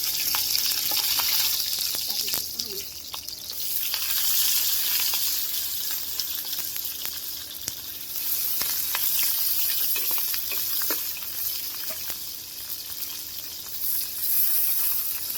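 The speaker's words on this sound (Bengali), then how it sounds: "ভাজা হোক" Chepa dried fish puli sizzling and frying in a pan, a steady bright crackle running throughout with occasional stirring clicks and a faint watery trickle in the background.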